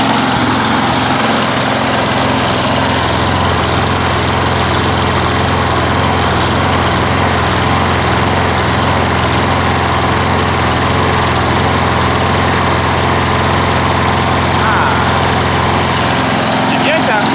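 Wolf PM-Quantum 35 lawn mower engine running steadily and loud throughout at a warm idle after carburetor adjustment, a constant droning hum with no breaks.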